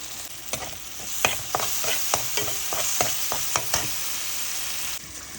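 Garlic powder and onions fry in a pan for a hilsa fish and green banana curry, a bright, continuous sizzle punctuated by a quick series of spoon clicks and scrapes, no one speaking.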